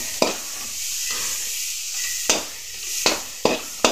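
Tomato and curry leaves frying in a pan for Kundapura-style chatli sukka: a steady, soft sizzle with several sharp spatula scrapes and knocks against the pan at irregular intervals.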